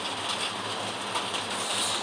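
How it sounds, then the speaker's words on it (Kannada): Steady rain falls in a continuous, fairly faint hiss with no breaks, heard on its own without voices. "ಮಳೆ ಬರುತ್ತೆ"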